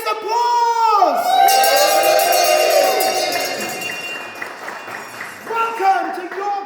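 Crowd at a museum opening for LGBT History Month in York bursts into cheers, whoops and clapping after a sung note, loud at first and then thinning out as a voice resumes near the end.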